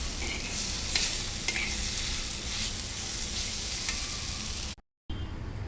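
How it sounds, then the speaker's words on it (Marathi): Garlic and a few cashews sauté in hot oil, a dense continuous sizzle with stirring scrapes that holds steady throughout, dropping out for a split second near the end. "नंतर आपण त्यात लसूण आणि थोडेसे काजू छान असं परतवून घ्यायचं।"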